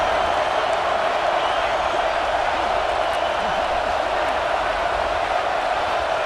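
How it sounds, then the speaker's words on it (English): Home crowd noise in the video game EA Sports College Football 26: a steady, dense stadium roar of many voices that holds at an even level throughout without breaking. "this home crowd is fired up and ready to make a difference today"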